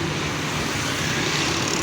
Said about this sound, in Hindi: लाहौर में माशाल्लाह ट्रैफिक हर जगह पे बहुत ज़्यादा है